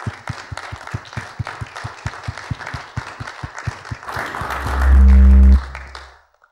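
Live audience applause at an indoor research and innovation day conference, many hands clapping steadily and fairly close, swelling into a loud burst near the end before cutting off.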